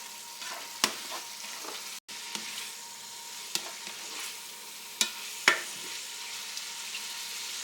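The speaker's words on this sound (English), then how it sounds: "now you can go ahead and add your peppers and onion mix back in" Beef with peppers and onions frying in a pan on a stove, a soft steady sizzle broken by a few sharp clinks and scrapes of stirring, close and fairly quiet.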